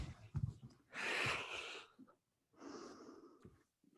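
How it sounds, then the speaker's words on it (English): Heavy breathing during a floor exercise workout, with long audible exhales and inhales rushing through in two drawn-out breaths, close to the mic with no talking. "Keep breathing."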